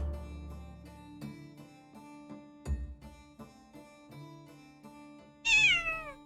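A cat gives a single rising, wavering meow near the end, preceded by scattered soft thumps and quiet tonal background sounds.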